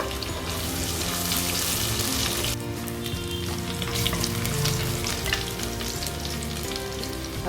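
Ginger and garlic fry in hot oil with a loud, continuous sizzle, and a brief stir or clatter partway through.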